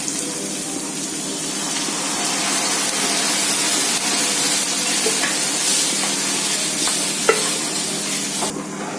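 Long-cut onions fry in a pan with a continuous, fairly loud crackling sizzle that runs steadily and alone, broken by a few small clicks and scrapes near the end.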